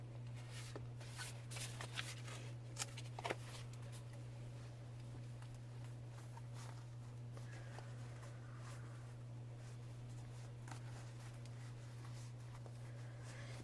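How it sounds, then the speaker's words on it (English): Thin matte-finish cardstock tarot cards are shuffled softly and close, with faint papery riffles and slides spread over a steady low electrical hum, and no voices. "But because they're thinner, they're easier to shuffle."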